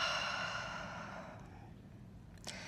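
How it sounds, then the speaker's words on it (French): A deep, long exhale through the mouth during a gentle yoga flow for the back, a soft breathy rush fading slowly over a couple of seconds, close and alone with faint room tone. "Complète expire par la bouche."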